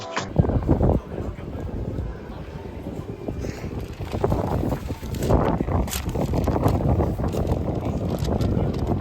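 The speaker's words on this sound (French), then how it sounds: "j'espère que vous m'entendez avec le vent" Heavy outdoor wind buffets a microphone with rumbling, irregular gusts and low roaring bursts that rise and fall across the whole stretch.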